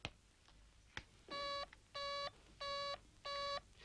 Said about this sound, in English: This is a paging pen, the kind they use in offices and factories where people are moving about between departments.